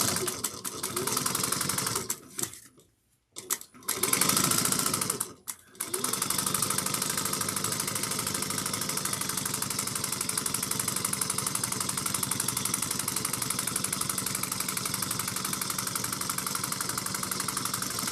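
A sewing machine back stitches and then runs along a tote bag handle as a fast, steady mechanical whir, briefly stopping twice near the start before running on continuously, close and loud.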